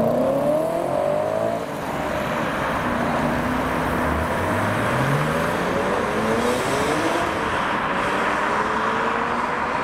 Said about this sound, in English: We've got the RS4 Avant and the Z4 M Coupe leaving.